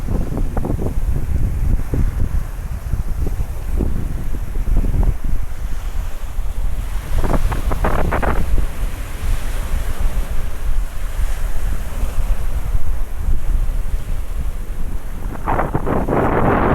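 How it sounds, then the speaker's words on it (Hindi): Waves wash steadily on the shore of Pangong Tso, a high-altitude lake in Ladakh, under constant gusting wind that roars across the microphone, with a few sharper splashes and breaking surges scattered throughout. "वेव्स देखो, वेव्स क्या शानदार वेव्स आ रही है।"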